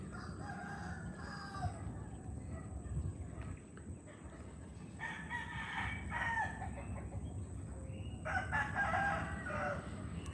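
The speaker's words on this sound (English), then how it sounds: "I hear chickens." Chickens cluck and a rooster crows repeatedly near a mangrove forest, several loud, drawn-out crows over steady clucking and faint background noise.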